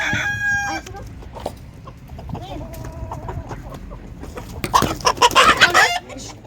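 A rooster crows near the start, then clucking and agitated squawks build to a loud burst toward the end, with faint voices in the background.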